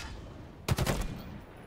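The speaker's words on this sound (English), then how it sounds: "Wait, who is shooting at me?" Gunfire in the video game Halo Infinite: a brief rapid burst of automatic shots, moderately loud over steady game background noise, with no talk.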